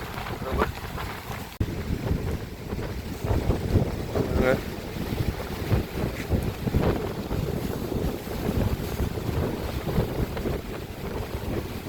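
Storm-driven seawater surges over a coastal embankment in Jaffna during a cyclone, a continuous rough wash of water and heavy wind buffeting the microphone, with someone talking faintly underneath.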